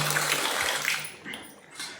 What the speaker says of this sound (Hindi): ये देखिए पानी भी इतनी तेज़ डल रहा है